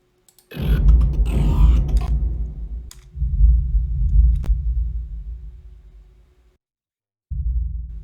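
Deep, booming low-frequency effects (LFE) channel rumble from a Dolby Atmos setup in heavy bursts, dropping out briefly between them, with almost nothing above the bass.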